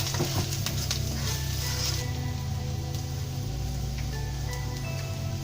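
Masala for stuffed capsicum curry, made with Kashmiri red chilli, coriander and garam masala powders, is stirred and sautéed in a pan, giving a steady close sizzle with a few scraping knocks early on and no speech.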